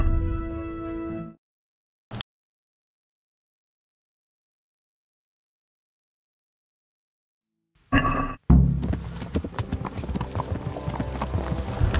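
Horse hooves clip-clopping in Kingdom Come, a rhythmic, fairly close trot that starts abruptly after a long silence and keeps going over other game sounds.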